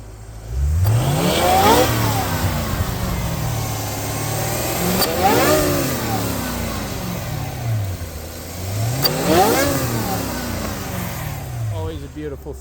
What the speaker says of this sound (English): give it a few revs for you guys so you guys can hear the supercharger